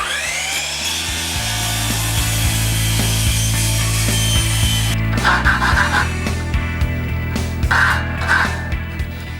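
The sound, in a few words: chop saw cutting a pocket door track to length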